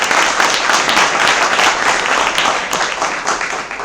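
Loud, sustained applause from an audience welcoming the chief guest, a pro vice-chancellor, at an academic gathering, with dense clapping continuing evenly throughout and tapering slightly toward the end.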